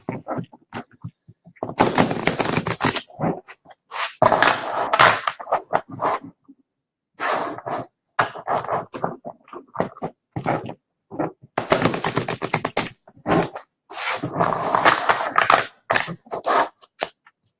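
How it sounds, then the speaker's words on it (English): Deck of cards being shuffled by hand, repeated bursts of crisp riffling and slapping, several separate rounds broken by short pauses, close and clear. "I'm going to shuffle the deck for Denise now."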